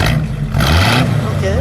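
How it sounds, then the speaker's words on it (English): A black 1942 Chrysler Saratoga Highlander Business Coupe engine revs on a cool day in Illinois, a close, throaty rise and fall of the motor, with people talking over it. "Give it a little rev, would you please?"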